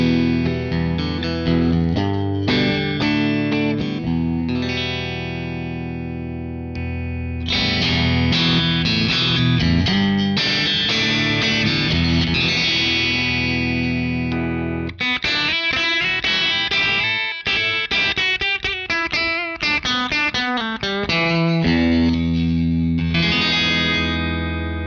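Electric guitar played through a ThorpyFX Scarlet Tunic overdrive pedal into a Fender Deluxe Reverb amp at low gain, loud continuous strummed chords and riffs with a warm, slightly driven British-style tone and no talking.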